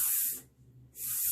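A voice imitates the hissing S letter sound from a phonics lesson: two loud, breathy hisses, each lasting about a third of a second, close up and alone, with a brief quieter gap between them.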